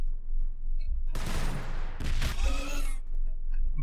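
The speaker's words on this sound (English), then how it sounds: "Let's launch our grenades first." Grenades launched in the Warhammer 40K Battlesector video game: two loud, dense bursts of blasts in quick succession against a low background hum, with no talking.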